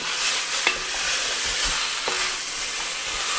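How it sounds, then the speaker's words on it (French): Oxtail pieces coated in spices are stirred in a cooking pot, giving a close, continuous sizzle with a few sharp scraping knocks of the spoon against the pot. "on tourne bien pour bien imprégner tous les morceaux des épices"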